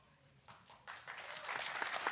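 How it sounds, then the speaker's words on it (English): Audience applause at a university valedictory event at IIT Bombay, clapping that starts sparse and quickly swells into a broad, dense round of hand claps from a large crowd. "Huge round of applause."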